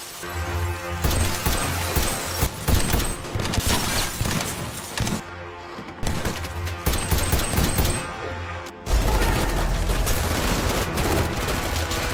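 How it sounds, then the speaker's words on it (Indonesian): Gunfire exchange in a film scene: loud, dense bursts of rapid automatic fire and shots from several directions, with crashes and a brief lull before the firing resumes, no talking. "Dan baku tembak pun terjadi"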